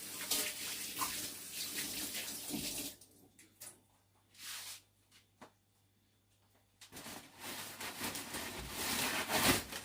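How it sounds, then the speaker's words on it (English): Hands washed under a running kitchen tap, a near, steady hiss and splash of water that stops for a few seconds of quiet with faint clinks and then starts again, with no talking. "I'm going to wash my hands."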